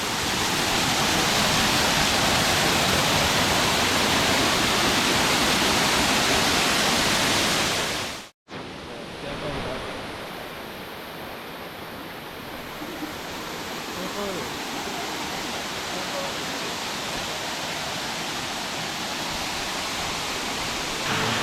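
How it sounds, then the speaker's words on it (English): Water pounds against rock at Los Chorros de Las Caleras waterfalls in El Salvador, a loud unbroken roar that cuts out briefly before returning slightly softer and continuing steadily. "The sound of water pounding against the rock."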